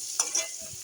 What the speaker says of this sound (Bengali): আলুগুলো একটু ভেজে নেবো ভালো করে।